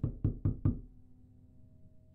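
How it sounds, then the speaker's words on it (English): Four sharp knocks on a door in the Roblox horror game Doors, evenly spaced and close, followed by a low lingering hum and a faint click at the end. "What's that knocking?"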